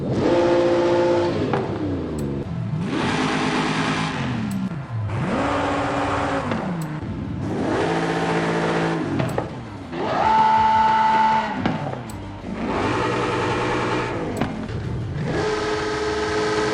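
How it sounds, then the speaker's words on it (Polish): Car engine in Forza Horizon 5, a racing video game, revving repeatedly in a series of loud rising and falling bursts, heard alone without speech. "jeszcze wam pokażę, jak inne silniki by brzmiały w tym modelu"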